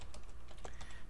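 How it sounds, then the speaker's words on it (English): Rapid clicking of keys on a computer keyboard, close and continuous, with quick irregular taps while coding. "But that's a lot of typing."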